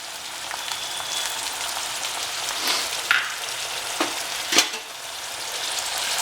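Four medium tomatoes and seven or eight whole green chillies fry in a pan for a tomato chicken curry, giving a steady close sizzling hiss with a few sharp clatters and no talk.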